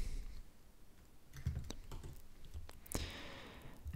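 Typing on a computer keyboard while working in a code editor, a quiet patter of scattered key clicks with a few sharper taps and one louder clack, faint and close.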